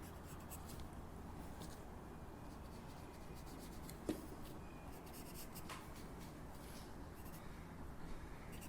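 Pencil or pen drawing Mega Charizard Y on paper, a soft continuous scratch of steady strokes with one brief sharper tick midway, faint and close with no talk.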